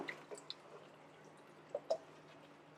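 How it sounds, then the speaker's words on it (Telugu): Faint, sparse drips as water drains from salted, washed cabbage for kimchi sitting in a strainer, with a handful of isolated drops and a soft splash at the close. "మనం స్ట్రైనర్లో వేసేసుకుంటే వాటర్ అంతా కూడా వెళ్ళిపోతుంది"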